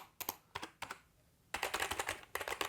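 Keys of a 2E Gaming KG300 LED keyboard clack loudly up close, first in a few short bursts, then a rapid run of clicky typing.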